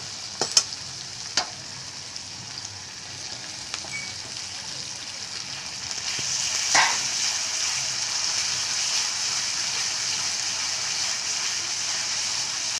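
Onion, ginger and garlic paste fries in oil while being stirred for a prawn kofta curry, a steady close sizzle with a few sharp utensil clicks early on that grows slightly fuller partway through, no talk.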